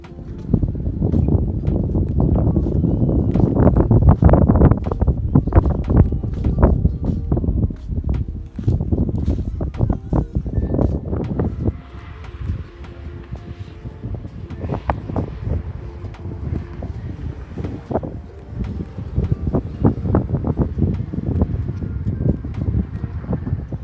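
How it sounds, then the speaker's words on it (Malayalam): Strong gusts of wind batter the microphone on Jebel Hafeet mountain near Al Ain with loud, rough rumbling bursts that come and go continuously, with no voices heard. "നല്ല കാറ്റുണ്ട് കേട്ടോ"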